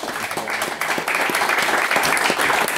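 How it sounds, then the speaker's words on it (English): Audience at a Bristol Junior Chamber evening event at the Engine Shed applauds after a talk, a steady patter of claps with some faint crowd murmur underneath. "So, round of applause"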